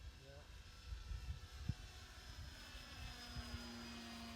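A radio-controlled World War 1 biplane flies overhead on a windy day, its small engine and propeller droning as a thin, steady whine, fairly faint and distant, with wind buffeting low underneath.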